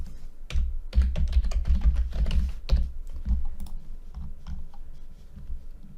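Rapid typing on a computer keyboard, a close dense run of clicking keystrokes with irregular rhythm that slows and thins toward the end, with no voices.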